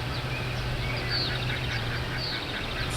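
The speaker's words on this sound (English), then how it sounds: "those birds are pretty loud" Ducks quack repeatedly in the background of Lawn Mowing Simulator, several scattered calls over steady low engine hum from a mower, moderately loud with no talking.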